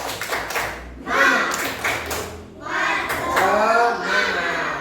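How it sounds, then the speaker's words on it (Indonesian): Children perform the tepuk semangat spirit clap in a classroom, a patterned burst of clapping with taps and shouted voices in a quick rhythm, pausing briefly before starting again. "Tepuk semangat."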